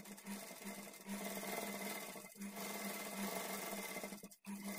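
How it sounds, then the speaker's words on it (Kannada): A sewing machine runs in steady bursts while stitching a blouse lining, its motor whirring continuously with a brief pause near the end and no voices. "ಈ ಥರ ಲೈನಿಂಗ್ ಕಡೆ ತಿರುಗಿಸ್ಕೊಂಡೇ ಸ್ಟಿಚ್ ಮಾಡ್ಕೊಳ್ಳಿ"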